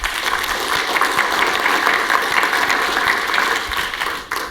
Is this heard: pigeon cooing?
no